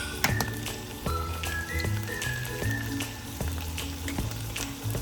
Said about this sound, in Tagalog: Ngayon, magluluto tayo ng beef steak.